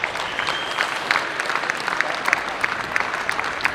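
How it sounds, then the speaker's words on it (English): Steady crowd applause at a short mat bowls match, a dense crackle of many hands clapping continuously at moderate distance, with no voices standing out. "Applause from the crowd."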